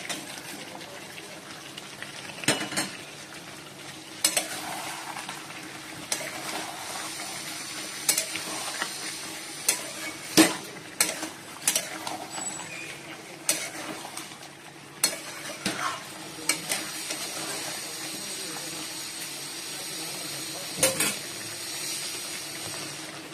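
Potatoes frying in a pan of chicken curry, a steady soft sizzle and hiss with repeated scraping and clattering spoon strokes as the pieces are stirred, close and continuous.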